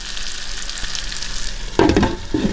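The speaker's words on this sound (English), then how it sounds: "come back when it's bacon and fried hard-boiled eggs" Bacon and hard-boiled eggs frying in browned butter make a steady, close sizzle, and a louder burst of spattering and crackling comes near the end.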